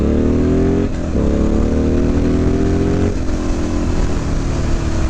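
Motorcycle engine running loud and close while riding, its pitch climbing steadily, then dropping sharply twice at gear changes before climbing again, with wind rush underneath.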